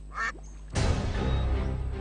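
Ducks quack at a duck pond: a few faint calls come first, followed by a louder, sustained stretch of busy quacking and pond noise up close.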